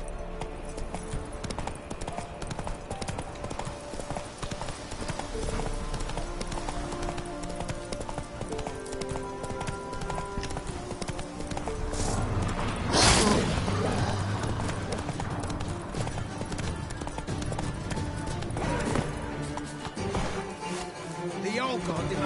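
Roach the horse gallops in the video game Witcher 3, with continuous rhythmic hoofbeats under loud game music and ambience, swelling around the middle with a sharp burst.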